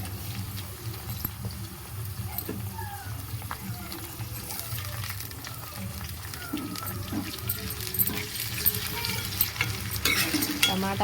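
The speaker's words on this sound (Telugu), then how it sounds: "ఇప్పుడు మనం టమాటాలు వేసుకుందాం." Tomatoes tossed into a pan of hot oil for Andhra-style chapala pulusu fish curry, a soft continuous sizzle with occasional stirring scrapes and clinks, fairly quiet and close.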